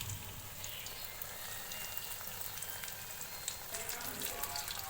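Fish frying in a pan gives a steady, fairly quiet sizzle and crackle, continuous and close, with no talking over it.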